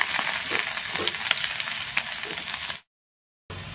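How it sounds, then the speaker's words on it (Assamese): Steady crackling sizzle of onions frying in hot oil, close and continuous, cutting to brief silence before the sizzle resumes. "পিঁয়াজখিনি অলপ ভাজি লওঁ।"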